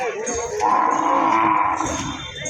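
Cattle at the Boktarpur cattle market, one long close, loud moo lasting over a second amid market crowd murmur.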